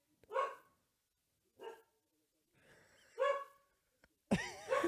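A dog gives a few loud, separate barks and yips nearby, with gaps of silence between them, ending in a longer howl-like cry as distant sirens sound.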